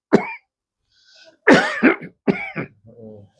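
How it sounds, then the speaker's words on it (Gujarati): An elderly man coughs in several harsh bursts with a throat clear, triggered when his body is pressed, close and loud with brief pauses between fits. "દબાવીએ તો ઉધરસ આવે"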